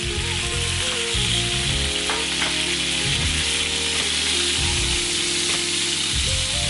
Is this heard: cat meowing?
no